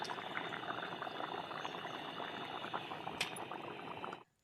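Fish curry with raw mango bubbles on a wood-fired stove, a steady, faint simmering burble with dense small pops that continues evenly before cutting off abruptly near the end.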